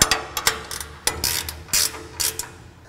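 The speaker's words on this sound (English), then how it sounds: "And finally, secure with a wrench." A ratcheting wrench tightens triangular support bracket bolts on a C|Flux dust collector, giving close, loud bursts of rapid clicks with short pauses between strokes.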